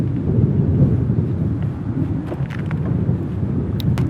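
Strong wind blowing outdoors, steady and loud for the whole stretch, roaring low and buffeting the microphone with no voices.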